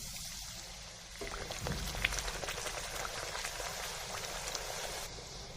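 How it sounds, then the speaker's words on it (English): Rice puris fry in heated oil. After a quiet second, a dense, rain-like crackling sizzle starts and keeps going, fairly soft and close. "Now the oil is heated. We will fry the puris in it."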